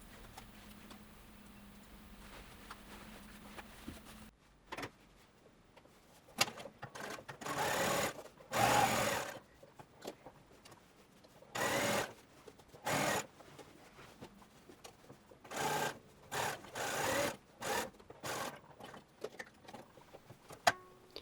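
A sewing machine stitches a shirtwaister dress in a series of short bursts, each a few seconds long and separated by pauses, heard up close.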